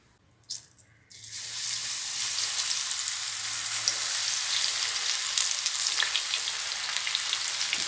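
Tapioca chips frying in hot oil give a loud, steady, crackling sizzle that starts after a second of brief clattering and holds evenly to the end, with no talking.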